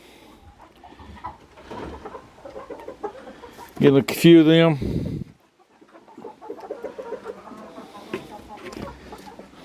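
Hens cluck in a henhouse with nesting boxes: a quiet scatter of low clucks, broken by one loud, drawn-out squawking burst near the middle, while someone speaks briefly.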